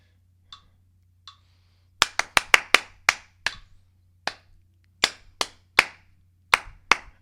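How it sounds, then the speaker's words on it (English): Hand claps beating out a rhythm, a few isolated claps followed by a quick irregular cluster and then evenly spaced claps, close and crisp over a low steady hum. "you clap it out, see if you can do it"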